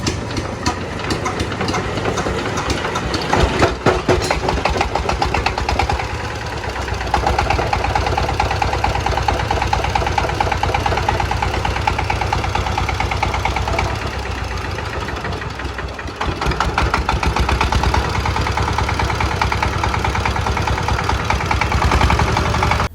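A second-hand Sifang 16 hp diesel engine runs at idle, a loud, close, steady rattling drone that holds for over twenty seconds with a slight shift in tone partway through and no voices.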